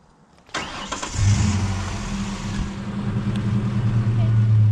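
A Ford Ranger pickup with 275,000 miles and an intermittent no-start fault cranks briefly and catches, then settles into a loud, steady, close-up idle that holds to the end.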